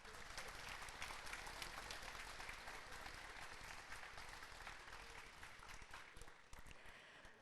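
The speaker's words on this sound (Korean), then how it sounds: "다시 한번 큰 박수 부탁드립니다" A large audience at South Korea's 70th Constitution Day ceremony applauds after a choir performance: a sustained, even roar of many clapping hands, heard faint and distant throughout.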